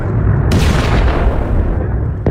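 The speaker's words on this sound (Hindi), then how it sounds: "ये तेल अवीव में आकर ईरानी मिसाइल हिट हुई है। ईरानी मिसाइल ने आकर हमला किया है।" An Iranian missile strikes Tel Aviv, heard as a sustained heavy rumbling blast with a sharper crack about halfway in and another brief burst at the end, loud and booming.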